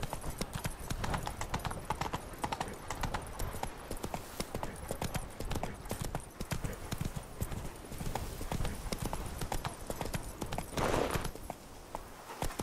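Horse hooves clip-clop at a steady trot across ground in The Witcher 3, a close, rhythmic run of beats with occasional snorts and brief voice-like sounds in the background.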